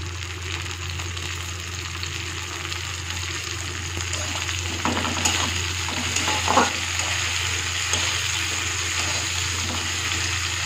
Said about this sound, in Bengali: এবার আমি টমেটো কুচো দিয়ে দিচ্ছি।